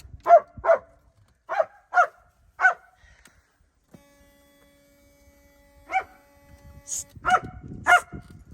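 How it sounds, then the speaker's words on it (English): A dog barks in short bursts, two quick barks, then three spaced ones, then more near the end, loud and close. A steady electrical hum runs beneath while someone works on a vehicle that keeps shutting off. "Somebody shoot that dog."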